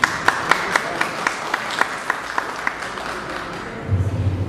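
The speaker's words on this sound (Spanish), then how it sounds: "Recibámoslos con un fuerte aplauso." Audience applause at a teachers' presentation in the municipality of Palmira, scattered rhythmic claps under a soft crowd murmur, moderately loud, ending in a low rumbling sound.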